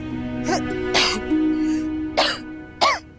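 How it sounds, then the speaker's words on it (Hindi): Four harsh coughs in a row, close and loud, spaced irregularly with a voiced strain between them. "अरे आपा इतनी खांसी हो रही है आपको"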